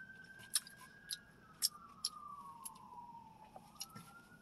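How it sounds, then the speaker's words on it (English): A distant siren wails with a slowly falling then rising tone, while close, crisp crunching sounds of someone chewing walnuts punctuate it. "Y'all hear the sirens."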